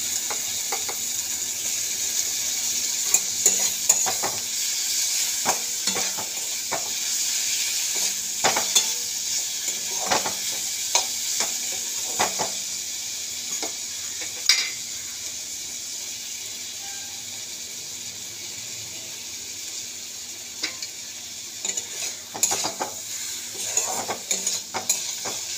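Spiced tomato masala fries with a steady sizzle in a pan, with a spoon scraping and stirring in repeated clicks throughout, close and moderately quiet.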